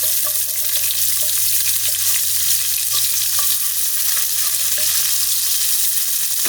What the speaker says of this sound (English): Quickly give it a stir, and then add onions